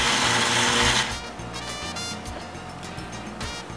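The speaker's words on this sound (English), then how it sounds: "Put the squid, pollock, and a bit of salt into the blender. Blend until it becomes a bit sticky." Blender chopping squid, pollock and salt into a sticky paste, a loud whirring burst at first that drops to a steadier, quieter churning with rhythmic low pulses.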